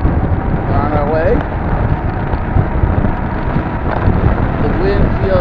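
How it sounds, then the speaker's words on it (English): Wind buffets a microphone while travelling on the road, a loud, continuous low rumble and roar with steady gusty texture, and a voice speaks briefly over it. "The wind feels good."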